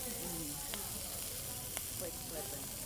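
Shrimp searing quickly in a hot pan at an outdoor market cooking demo, a steady soft sizzle filling the background with a few faint clicks, while voices chatter nearby.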